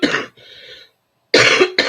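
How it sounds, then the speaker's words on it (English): Short bursts of coughing from a person with a lingering cough, one harsh cough, a brief raspy follow-up, then two more loud close coughs after a pause. "still got the cough, but it's real tiny now"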